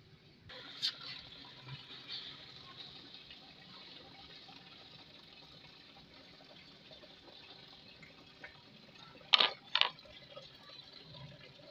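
Rusty red water is poured out of a container, a faint, steady watery hiss with a couple of brief louder splashes near the end.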